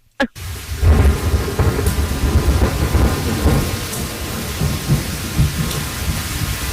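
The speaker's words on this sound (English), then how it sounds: "This got to be a thunderstorm or a rainstorm. It's a thunderstorm." A thunderstorm with heavy rain pours loud and continuous after a sharp start, with low rumbling thunder rolling beneath the steady hiss of falling drops.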